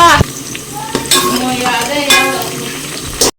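Garlic and green chillies frying in a pan, loud close sizzling broken by metal spoon scrapes and clanks against the pan, with a brief voice in the background.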